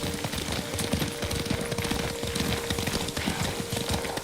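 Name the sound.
horse hooves clip-clopping while riding, from video game Ghost of Tsushima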